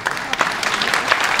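Brief burst of audience applause at a press-review comedy show, dense clapping from a crowd at fairly close range, loud and continuous without talk over it.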